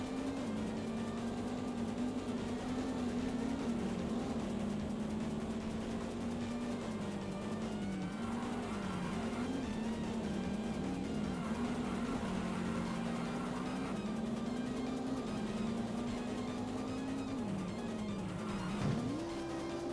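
A rally car's engine drones steadily while driving on snow in the N64 game Top Gear Rally, the pitch wavering with throttle and a brief rise near the end, with no voices over it.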